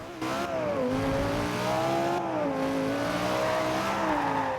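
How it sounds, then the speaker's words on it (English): A car in Forza Horizon 2 fitted with the same engine as the Audi R8 and Lamborghini Gallardo, with racing rims and an aero body kit, revs loudly and steadily. The engine pitch rises and dips through gear changes with no talk over it. "The engine in this car is the same that goes into the Audi R8 and the Lamborghini Gallardo, and it just sounds amazing"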